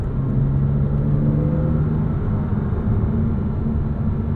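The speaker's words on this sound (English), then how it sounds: "Listen to those harmonics." Inside a 2006 Porsche Cayman S on the move, the engine holds a steady low droning rumble with layered harmonic tones and a faint whine, continuous and close, with no talking.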